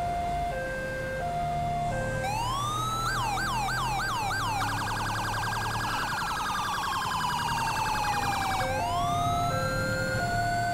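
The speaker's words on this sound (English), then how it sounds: "It's the police car." A police car siren in Grand Theft Auto V wails loudly and nearby, with rising and falling sweeps, a fast yelp section, then a long descending tone that rises again. No voices.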